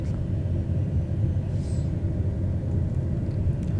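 A low, steady rumble comes from an airplane braking hard on a mountain altiport in Microsoft Flight Simulator 2020, a dull constant roar without speech.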